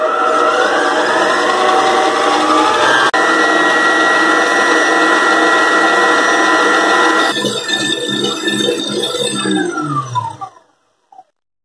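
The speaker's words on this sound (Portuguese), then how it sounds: "depois nós vamos bater em velocidade alta por 15 minutos" Stand mixer beating sponge cake batter at high speed, a loud steady motor whine with rising whirring overtones, running continuously, then winding down and cutting off near the end.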